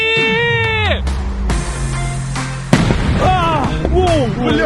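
A firecracker that was slow to go off bursts with sharp, loud cracks among high, strained voices and shouting close by, followed by a sustained noisy roar.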